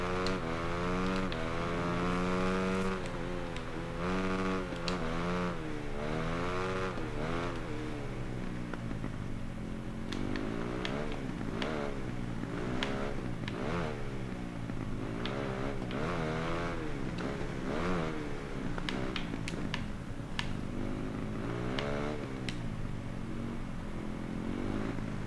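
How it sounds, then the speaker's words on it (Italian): A motorcycle engine revs hard and continuously in the Ride 3 racing game, probably a motocross-style bike, rising and falling in pitch over and over, loud and close throughout, with no talk. "Davvero figo il suono che fa la moto in questa parte, diciamo da cross"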